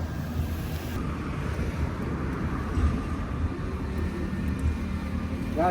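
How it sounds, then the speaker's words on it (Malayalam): Steady wind buffets the microphone on a motorcycle ride in Ladakh near the India-Pakistan border, a continuous low roar with no clear pauses, loud and close throughout. "കാറ്റടിക്കാണ്"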